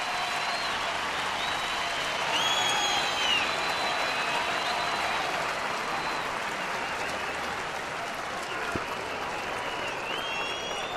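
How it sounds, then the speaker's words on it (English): A baseball crowd at an Angels game applauds a base hit against Chris Sale. The applause is broad, sustained and even, heard from a distance throughout with a few faint whistles above it. "you can hear the crowd appreciating his effort tonight"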